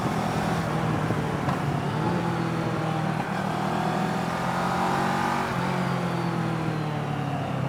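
A Kawasaki ER6N parallel-twin motorcycle engine drones steadily while ridden, the pitch rising and falling gently with throttle and engine braking, mixed with constant wind rush.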